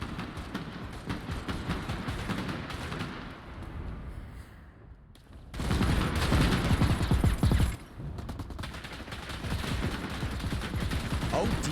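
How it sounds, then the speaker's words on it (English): Silenced submachine guns firing in the shooter Bloodhunt, coming as rapid rattling bursts over continuous game noise, with one louder, denser stretch of fire partway through. "Silenced SMGs. Not very quiet at all."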